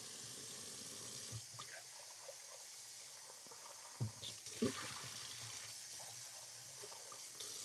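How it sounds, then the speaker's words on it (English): Warm tap water runs steadily into a sink while a cup is rinsed, a continuous faint hiss broken by a few clinks and splashes as the cup is handled. "I'm just rinse this out real quick. Get a cup of warm water."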